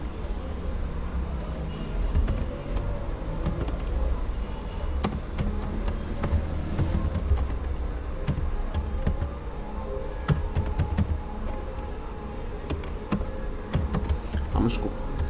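Code is typed on a computer keyboard for a PHP lesson, a close, fairly quiet stream of rapid uneven clicks and taps that runs steadily with brief pauses, without speech.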